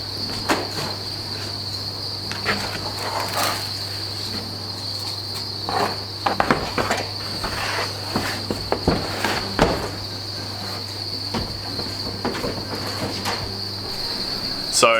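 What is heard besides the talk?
crickets in a cricket farm breeding bin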